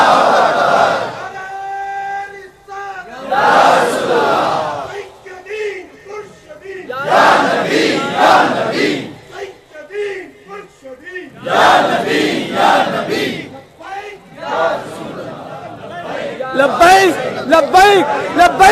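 A large crowd at a Friday sermon for 12 Rabi ul Awal chants slogans in loud, rhythmic bursts, each shouted phrase followed by brief pauses, with a leader's voice calling out and the mass of voices answering close and powerfully.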